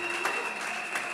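A church congregation applauding during a Sunday worship service: a brief burst of clapping over a sustained tonal background, fairly faint and short.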